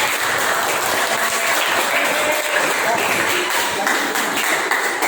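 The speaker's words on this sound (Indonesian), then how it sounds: "Tepuk tangan buat mereka." Students in a classroom clap for their classmates during a religious studies lesson, a steady wash of applause that runs evenly throughout, with some voices mixed in underneath.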